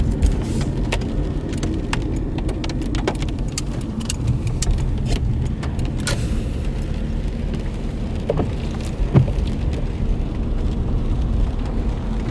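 Steady rain patters on a car windshield over the low rumble of a moving vehicle, with occasional soft ticks and knocks.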